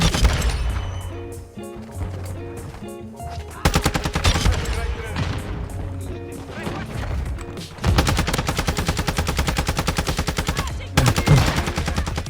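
Dense automatic gunfire in Call of Duty: Modern Warfare II, fired from a prone position, comes as loud rapid bursts with short pauses between them, and there is no talk over it.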